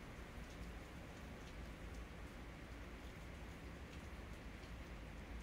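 Rain falls steadily outdoors, a soft continuous hiss of drops with faint scattered patters, heard alone at low level without any talk.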